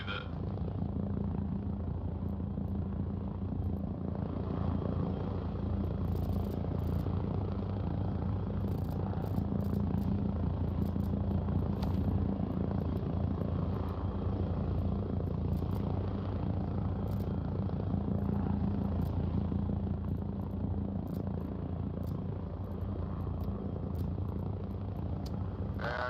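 A Chinook helicopter loaded with supplies flies in Arma Reforger, its rotors throbbing in a steady, dense low drone with no break, loud and close the whole time.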